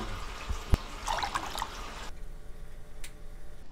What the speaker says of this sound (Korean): 물을 좀 부어서 한번 흔들어. 한번 흔들어서 끓여.